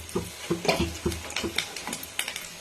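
Cabbage fritters for a crispy cabbage 65 drop piece by piece into hot oil, giving close clicks and clatter over a faint, steady sizzle, with no talk.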